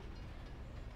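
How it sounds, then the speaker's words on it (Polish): A passing train in the farming game Farming Simulator 22, a steady low rumble of rolling rail cars heard alone, moderately loud and continuous for a brief moment. "Pociąg."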